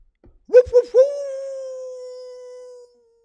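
A voice imitates a dog barking, giving two short yelps followed by a drawn-out, howl-like woof that fades after about two seconds.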